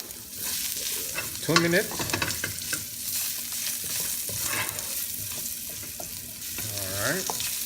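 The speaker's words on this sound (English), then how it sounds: "Let's fry our ginger for" Ginger fries in a pan with a steady, close sizzle and scattered utensil scrapes, while a voice speaks briefly twice over the crackle.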